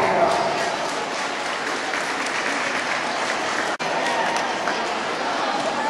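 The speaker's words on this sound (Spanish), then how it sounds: "Arriba los trofeos y fuerte el aplauso." An audience claps loudly for trophy winners at a roller skating event, sustained dense applause with a brief sharp break near the end, crowd voices mixed in.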